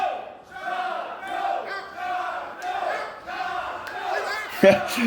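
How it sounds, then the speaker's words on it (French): A wrestling show crowd chants in unison for Jean-Claude, a loud, rhythmic wall of many voices rising and falling in repeated phrases across the arena. "Dirtman out of nowhere part un chant pour Jean-Claude. Ce que la foule aime."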